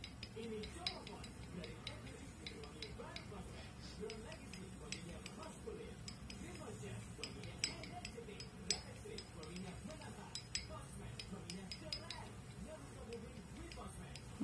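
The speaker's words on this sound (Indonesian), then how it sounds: "Kita aduk sampai merata" A spoon stirs a slaked lime solution in a glass, making a run of faint, rapid, fairly regular clinks that continue throughout, with soft talking underneath.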